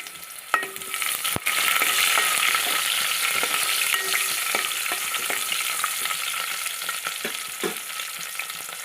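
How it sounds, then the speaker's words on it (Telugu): Onion and garlic fry in oil in a pan for a mango dal rasam tempering, giving a steady close, loud sizzle with occasional stirring clicks and scrapes. "మనం ఉల్లిపాయ, వెల్లుల్లి అండి అంతా వేసి బాగా వేగనివ్వాలి"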